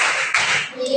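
A school class does a short patterned group clap in unison; a dense burst of claps lasting about a second, with a voice mixed in.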